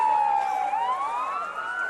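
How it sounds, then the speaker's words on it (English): An ambulance siren wails, rising and falling, loud and close, its pitch sweeping down and then climbing again over two seconds. "Sirens replaced the screams as ambulances raced to the scene."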